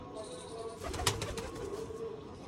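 Pigeons in a coop, with soft cooing and bird calls over a steady low background hum and a few brief sharper chirps midway, close and moderate in level.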